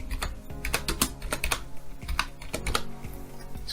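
Typing on a computer keyboard: a quick, uneven run of close, crisp key clicks with no speech.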